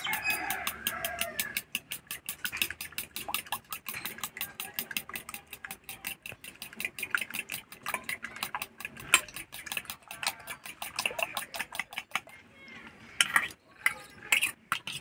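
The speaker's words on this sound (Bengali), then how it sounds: "এবার ভালো করে ফেটে নেব।" Eggs whisked in a bowl with a pinch of garam masala for a lentil and egg dish, a fast steady rhythmic clicking of the beater against the bowl running throughout and stopping near the end.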